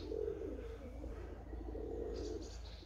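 Budapest pigeons coo steadily in a loft as the birds leave it, a soft, low, continuous murmur close by with no speech.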